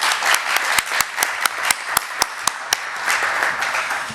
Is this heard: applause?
yes